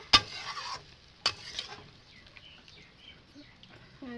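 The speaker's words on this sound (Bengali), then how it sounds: "দেখো আমি জল দিয়ে দিচ্ছি পরিমাণ মতন" Water hits potatoes and cabbage frying in a pan, opening with a sharp splash and a burst of sizzling. A second splash follows about a second later, then a quieter, fading simmer. No one speaks.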